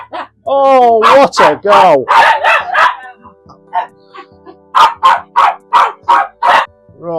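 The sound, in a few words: dogs barking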